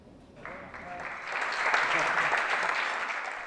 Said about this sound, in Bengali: করতালির মাধ্যমে বার্সার নতুন তারকা রবার্ট লেভানডস্কিকে স্বাগত জানালো বার্সেলোনা